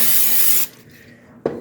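A steady hiss of Pam cooking spray from an aerosol can into a pan lasts about half a second, followed by quiet and another short burst.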